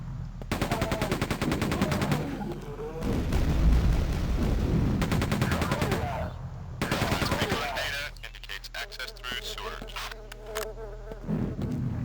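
Rapid automatic gunfire from the video game Quake 2, long rattling bursts of machine-gun shots in quick succession, loud and close, broken by short pauses and ending with quieter in-game sounds.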